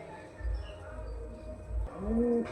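Domestic high-flying Giribaz pigeons cooing near their food, a soft low throaty coo rising near the end, close by, with faint background rustle.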